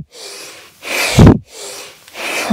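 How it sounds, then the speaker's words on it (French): Rapid, forceful breath-of-fire yoga breathing during a dynamic practice: four sharp nasal exhalation bursts in quick rhythm, close and loud, with short gaps of quiet between pushes. "Ça devient une respiration du feu."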